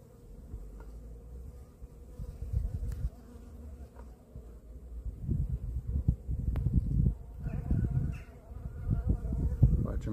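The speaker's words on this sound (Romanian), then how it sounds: "Vor veni albinuțele aici." Bees buzz steadily at an apiary in early spring, a low insect hum that swells and grows louder and busier in the second half, with faint rustling underneath.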